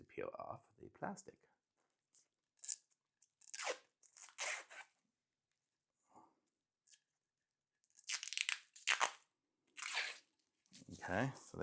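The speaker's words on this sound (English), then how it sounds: "It looks kind of choppy here because we need to peel off the plastic." Protective plastic film crackles and tears in uneven bursts as it is peeled off the base of an 8.5x11 acrylic sign stand, with bits of close talk in between.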